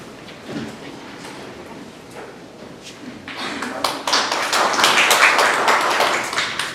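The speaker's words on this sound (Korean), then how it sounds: "큰 박수로 맞아주시면 감사하겠습니다." Audience applause at the opening ceremony of a Korean SDGs forum, welcoming a foreign ministry official to the stage; scattered claps grow into loud, sustained clapping across a hall.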